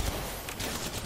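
Rapid bursts of gunfire from a competitive online shooter during an international scrim, a short, dense, loud volley of shots with no voices over it.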